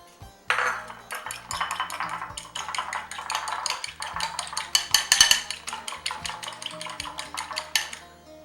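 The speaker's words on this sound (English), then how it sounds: "Now I will whisk 1 egg with 1 tablespoon of milk." A whisk beating one egg with a tablespoon of milk in a bowl, producing rapid, close metallic clinks and scrapes in an uneven rhythm, with no talking.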